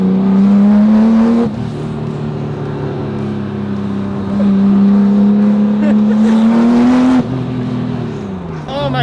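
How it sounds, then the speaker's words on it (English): A widebody RWB Porsche 911 with a swapped GT2 engine revs loudly from up close, its exhaust note climbing in pitch, dropping off at each shift, then climbing again, while voices talk faintly underneath. "This sounds so awesome too. That exhaust."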